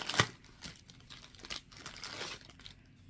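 A plastic resealable bag crinkles and crackles up close in several short, irregular bursts, with a sharp rustle at the start and softer handling noises after, no talk.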